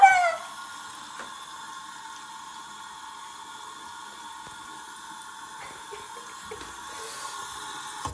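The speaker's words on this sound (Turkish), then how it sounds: "Suyu açalım." Water runs from a tap in a steady, quiet hiss after a brief louder gush at the start, with faint clicks and movement nearby and no voices.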